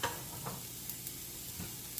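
Stir-fry vegetables sizzle steadily in a hot pan, a dense close hiss with a few brief louder pops and spatters as water goes in.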